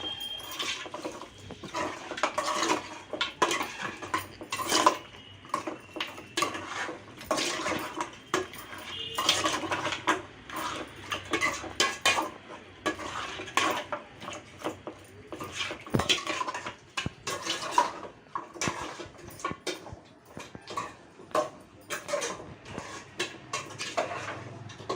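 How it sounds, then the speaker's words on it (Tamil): A spoon scrapes and clinks in a pan while masala with turmeric is stirred and sautéed in oil, a long run of close, irregular metallic taps and scrapes with soft sizzling underneath. "நல்லா பெரட்டணுங்க. எண்ணெயில் நல்லா வதக்கிட்டு"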